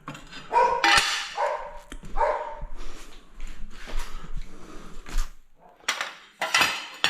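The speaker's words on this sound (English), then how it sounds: "What's the dog barking at?" A dog barks in a few sharp, separate bursts, near and fairly loud, mixed with clinks and clatter from tiling tools or dishes in the same space.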